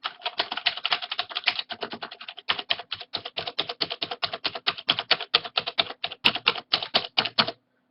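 Rapid, clacky keystrokes on a mechanical keyboard, a steady run of sharp taps with a short pause midway, close and alone.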